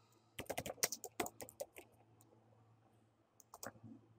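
Computer keyboard typing while entering a label in SketchUp: a quick run of close, crisp key clicks, then a pause and a short second burst of keystrokes.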